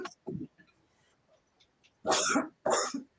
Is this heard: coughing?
yes